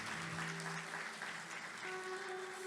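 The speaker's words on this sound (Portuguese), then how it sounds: "Você dá uma salva de palmas para o Senhor?" A church congregation claps through a worship service, steady dense applause filling the room throughout, with sustained tones from music or voices underneath.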